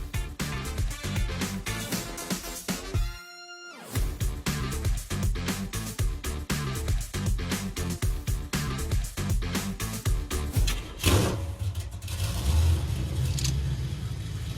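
A Chevrolet Impala engine starts and pulls away under steady revving, dense mid-range motor rumble and vibration running nearly continuously, close and loud, with a brief gap early on before the drive resumes.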